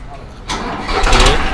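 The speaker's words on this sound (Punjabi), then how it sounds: "ਲਓ ਵੀ ਮਾਰਦੇ ਸੈਲਫ ਬਾਈ ਕਰਾ" A Farmtrac tractor engine is started with its self starter: a quiet lead-in, then a sudden burst of cranking that catches into a louder, rough engine roar up close.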